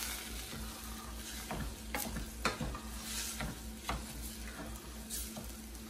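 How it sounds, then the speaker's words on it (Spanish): White rice being added to a pot and stirred, giving a steady soft scraping and rustling texture with light sizzling underneath and a few sharper clinks, close and moderately quiet, with no talking. "Ahora vamos a agregar 2 tazas de arroz."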